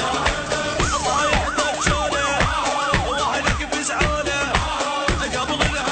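A police car siren wails in rapid rising and falling sweeps, loud and continuous throughout, with a rhythmic low thumping beneath it.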